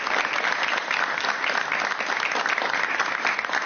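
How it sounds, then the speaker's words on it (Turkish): Dense, steady applause from a studio audience at a televised talk show, many hands clapping continuously at close range with no voices over it. "alkışlarla arkadaşları yerine alalım"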